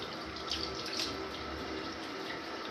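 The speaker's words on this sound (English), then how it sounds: "I just add a little bit more water." Water running from a tap while more is added to a beard being styled with high-hold beard putty, a steady close splashing flow lasting a few seconds with no talk.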